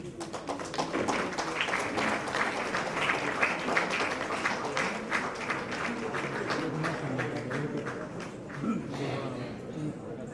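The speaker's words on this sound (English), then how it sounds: "Can we give them another round of applause?" A hall of guests at a formal gathering with the Tamil Nadu governor and women leaders breaks into sustained applause, dense individual claps ringing out close and lively, mingled with murmuring voices.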